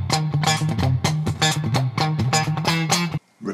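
An electric guitar plays the funky breakdown riff in an F shape, with clipped, rhythmic plucked notes and chords over a repeating low bass tone. It is loud and close, then stops abruptly near the end.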